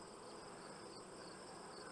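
A steady, faint hum of many bees buzzing around their nest in warm weather, a dense continuous drone with no pauses or voices.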